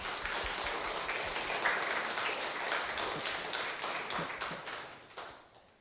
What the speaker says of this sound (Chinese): 我们给她一个鼓掌，掌声